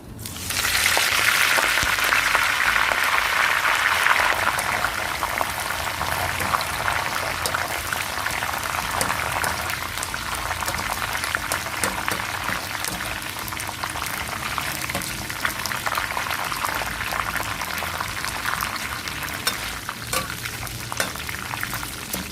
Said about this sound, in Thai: ก็นำใบมะกรูดมาทอดค่ะ